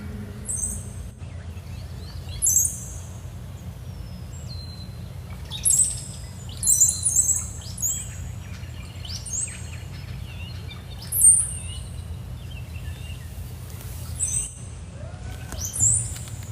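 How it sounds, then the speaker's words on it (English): Birds sing and chirp in scattered bursts over a low, steady background hum, with sharp whistles and short calls coming and going at moderate distance throughout, and no talking. "meditating with bird sounds"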